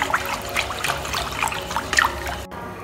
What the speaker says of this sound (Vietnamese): cho hết vào cái chỗ tiết này và mình sẽ khuấy đều lên.